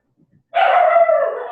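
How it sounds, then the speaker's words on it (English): A dog barks at a running washing machine indoors, one loud close sustained bark or howl that starts abruptly after a moment of near silence and holds to the end. "My dog's barking at the washing machine."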